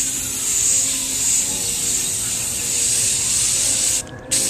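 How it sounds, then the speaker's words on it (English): An aerosol can sprays white primer onto a new burner, a loud close continuous hiss that runs steadily before a brief pause and a short resumed burst. "we're going to go ahead and spray it with the silver spray paint"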